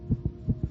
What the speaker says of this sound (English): This is the sound of a racing heart.